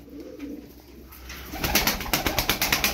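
Ankara tumbler pigeons coo as a male circles a female. A quiet start gives way to a steady, rhythmic run of close, throaty coos, repeating about every third of a second.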